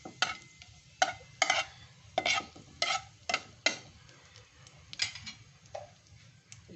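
Bay leaf, cardamom and cinnamon frying in melted ghee, with sharp spoon scrapes and clicks against the pan in an uneven rhythm over a faint low crackle, close by and alone.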